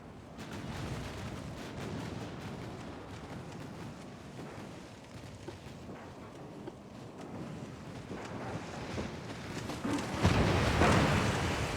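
Naval battle in Ultimate Admiral: Dreadnoughts, with warships and a heavy cruiser under fire: dense, continuous booming gunfire over a rushing wind-and-sea wash, swelling louder toward the end.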